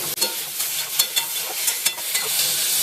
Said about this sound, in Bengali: তেলটা গরম হয়ে গেছে, এবার এর মধ্যে নুন হলুদ মেখে রাখা চিংড়িটা দিয়ে দিচ্ছি।